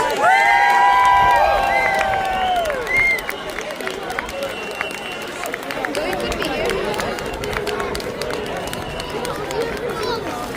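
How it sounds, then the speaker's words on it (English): Outdoor crowd at a St Patrick's Day parade in Drogheda, Ireland, a steady roar of voices and cheering with whistle-like tones early on, continuing throughout at fairly loud level. "Come on, a big cheer from the Drogs!"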